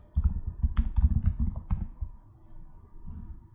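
Computer keyboard keys clattering in quick bursts while code is typed, close and crisp at first, then easing into softer, sparser tapping.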